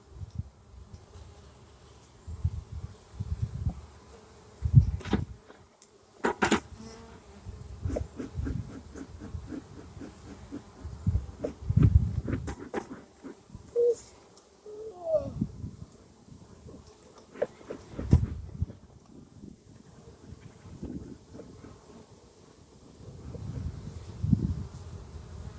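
Honeybees buzz around an open hive during an inspection, a faint, uneven hum with bursts of nearby buzzing and scattered knocks and rustles from handling the frames.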